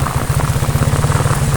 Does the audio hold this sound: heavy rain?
yes